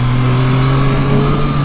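A 2023 Triumph Street Triple 765 RS motorcycle's three-cylinder engine revs hard and steady during a wheelie, a loud, close, sustained droning howl with no talking.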